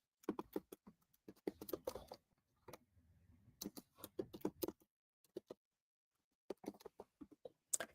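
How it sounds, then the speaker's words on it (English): Typing on a computer keyboard in short bursts of sharp, close key clicks separated by silent pauses, with a faint low rumble between groups and no talking. "Let me type it in here."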